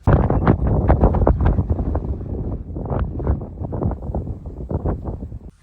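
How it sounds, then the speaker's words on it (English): Strong gusty wind in the badlands buffets the microphone in continuous rumbling bursts, loud and close throughout, with no other clear sounds. "dang, it is windy"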